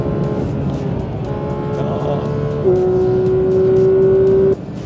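A Pagani Utopia's V12 engine wails steadily, climbing in pitch before cutting off abruptly near the end, loud and close.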